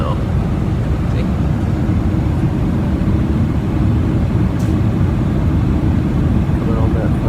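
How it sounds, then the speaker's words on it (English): Inside an airliner cabin on final approach to Geneva, a steady loud broadband engine and air rumble fills the whole stretch without pause. "Coming on that final approach."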